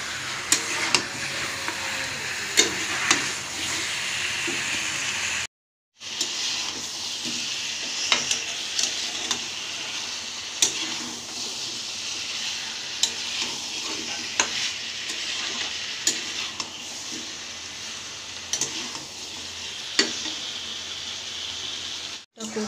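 Biryani masala being lightly sautéed in a pan, giving a continuous close sizzle with frequent spatula scrapes and taps, broken by a brief silent gap, with no voices.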